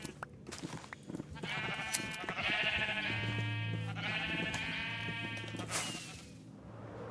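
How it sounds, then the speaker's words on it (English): Sheep bleating loudly and close in a long, wavering, bass-heavy call with a second bleat following, over faint background rustle. "Just base boosted sheep."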